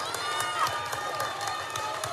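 Crowd noise at a softball game, a steady roar of cheering and clapping with sharp claps popping through, heard over a two-second stretch during a tense at-bat with a batter down 0-2.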